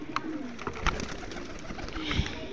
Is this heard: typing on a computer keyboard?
no